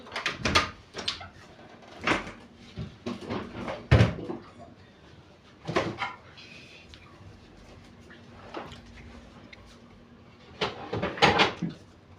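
Indoors in a home, a door or cupboard is opened several times, giving a series of knocks and creaks spread through the stretch, with quiet talking in the background.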